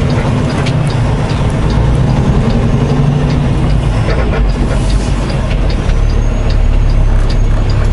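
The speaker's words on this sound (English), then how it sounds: "we're gonna have to back it in here just to get our truck out of the way" Heavy truck engine rumbling at a loading dock as it backs toward a door, with mechanical clanks and air-brake hisses over a steady low drone, no talk.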